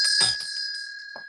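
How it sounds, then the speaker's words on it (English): Small bell rings once, a bright sustained tone that fades slowly over about a second, with faint brief noises behind it and no talk. "Yes, I have a bell."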